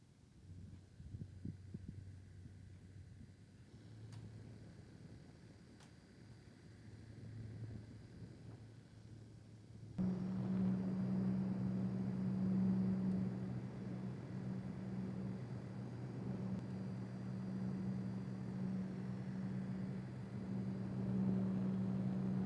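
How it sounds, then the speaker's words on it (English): MSI Coreliquid S360 liquid cooler at idle, a faint steady hum and low throb that thickens halfway through into a stronger, constant tonal pump whine. "The only noise I really noticed was pump whine, and it's only noticeable when the system is at idle"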